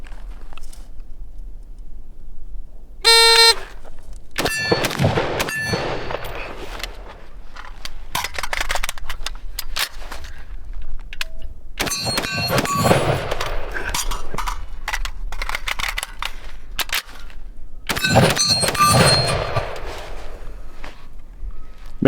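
A Ruger Mini 14 rifle is speed-reloaded in bursts of metallic clicks, clanks and rattles from magazines and the action, separated by shorter, quieter stretches of handling noise.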